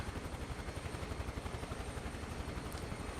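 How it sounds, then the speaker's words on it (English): A helicopter in Microsoft Flight Simulator 2024 descends sideways in the background, its rotor thumping in a steady rapid pulse, faint and distant. "that's a helicopter coming down sideways, just in the background there"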